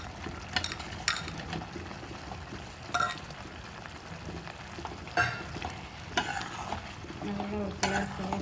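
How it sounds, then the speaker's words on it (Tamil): Washed mushrooms go into a pan of gravy and are stirred through, with a spoon scraping and clinking against the pan in irregular bursts over a soft, low bubbling simmer, close and moderately quiet. "சுற்றியும் அப்படியே கிளறி விட்டுட்டு இப்போ கழுவி வச்சுருக்கிற காளானை போட்டுருவோம்"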